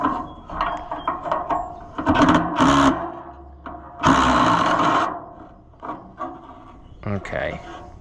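A wrench works a nut on the radiator of an Oliver 77 tractor, making irregular ratcheting clicks and metallic scraping bursts close by, with pauses between turns.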